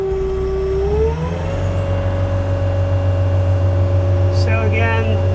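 A 2022 Kubota SSV65 rubber-tire skid steer loader with a 64 hp engine rumbles loud and steady nearby, its pitch climbing as the revs rise, with a brief hiss near the end.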